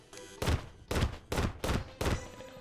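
Handgun fired repeatedly in Terraria, five sharp gunshots at a steady pace roughly every half second, loud and close with short decaying tails.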